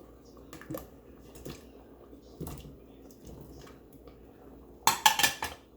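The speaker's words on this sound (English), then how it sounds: "So now she's going to add the potatoes." Potato chunks go into a pot of pork mechado: faint scattered clinks and soft knocks, then a louder cluster of quick clattering thumps near the end, with no talk.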